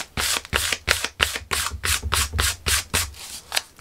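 Sandpaper rubbed briskly over a shiny craft surface to scuff it for glue, about a dozen close, even back-and-forth strokes in quick rhythm, with no voices.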